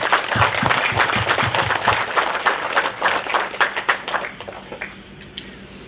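A ceremony audience at the FSM National Convention Center applauds in dense clapping that thins out and fades toward the end.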